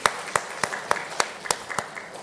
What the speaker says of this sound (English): Ladies and gentlemen, again, a bigger round of applause for our panelists.